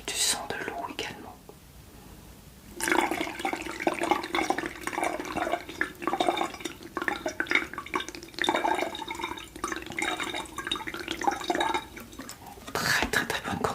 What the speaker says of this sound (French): Je vous fais profiter du son de l'eau également.